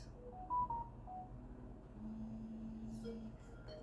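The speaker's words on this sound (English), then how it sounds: "I leave my phone on not silent during reads, just in case I get a message" Phone message notification: a few short, faint electronic beeps near the start, then a steady low tone under a quiet background hum, with no talk.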